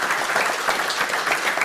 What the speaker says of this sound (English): Why don't we give them a huge round of applause, welcome them to our gathering.